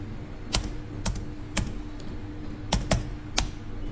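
Several distinct keystrokes on a computer keyboard while typing a word in Microsoft Word, spaced irregularly, close and clear over a low steady hum.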